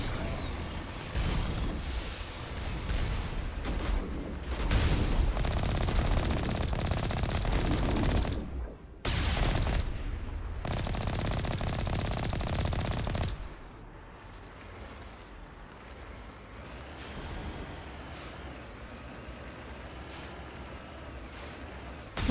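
Enemy gunfire in the Mass Effect 1 video game on Insane difficulty: loud, dense bursts of automatic shots and impacts that rattle on continuously, then ease to a lower, steadier volley after a brief gap.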